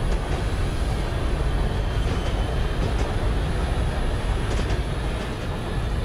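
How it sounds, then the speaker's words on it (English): A metro train rolls in within the Railworks train simulator game, a steady broadband rumble of wheels and motors holding level throughout with faint clicks, no voices. "There's the metro train rolling in."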